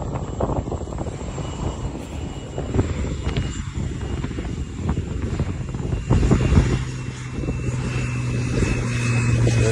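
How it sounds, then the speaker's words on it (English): A military C-130 propeller aircraft flies out over the ice, its deep droning engine rumble continuous and fairly loud, swelling slightly toward the end, with no voices. "Totally military C-130 flying out over the ice right now."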